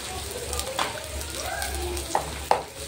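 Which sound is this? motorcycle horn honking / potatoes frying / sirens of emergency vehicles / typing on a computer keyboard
potatoes frying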